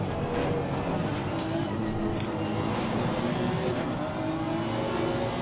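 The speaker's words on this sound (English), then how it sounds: "Aston Martin right there. He was just steady coming, getting closer, closer, closer." An Aston Martin race car in Assetto Corsa Competizione at Circuit Zolder closes in from behind with a loud, sustained engine roar that holds steady throughout.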